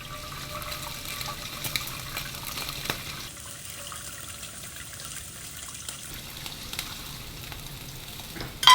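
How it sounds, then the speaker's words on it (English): A whole pot of liquid poured over pork belly makes a steady hissing, splashing sizzle that shifts tone midway, ending with a louder knock. "I'm gonna dump the whole pot on it."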